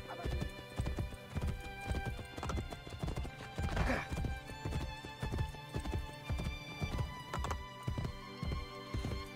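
Horse hooves clip-clopping steadily while riding in the Assassin's Creed Brotherhood video game, a continuous rhythmic trot up close with a brief whinny, no speech.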